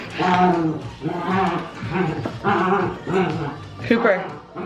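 A dog vocalizes loudly in repeated yowling, howl-like bursts, close by, with short pauses between them.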